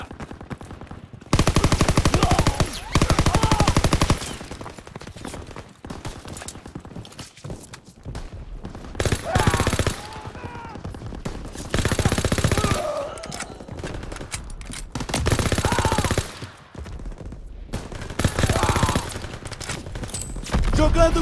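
Machine gun fire in Call of Duty WWII, during a D-Day beach assault, erupts in loud sustained bursts that alternate with quieter stretches of battle noise and shouted voices.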